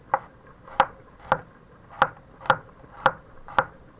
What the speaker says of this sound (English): flip your onion, do a few cuts, and then you can go